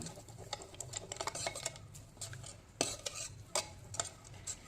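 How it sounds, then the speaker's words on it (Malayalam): A spoon stirs a homemade gray-hair remedy mixture in a bowl, giving a steady run of close scraping and light clinking strokes with no voices. "ഇനി നമുക്ക് നല്ലപോലെ ഒന്ന് മിക്സ് ചെയ്ത് കൊടുക്കാം"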